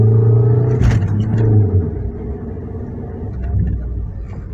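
A manual car climbing a hill in heavy traffic revs in first gear, a loud low engine drone rising then easing off, with a clatter midway and a steady rumble continuing.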